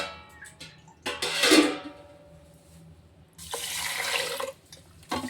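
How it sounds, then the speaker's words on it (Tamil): Moong dal being rinsed by hand with poured water in a home kitchen, two separate bursts of splashing and swishing, close and fairly quiet, with brief pauses between. "இப்போ இதை வந்து நல்லா தண்ணியை ஊற்றி கழுவணும்."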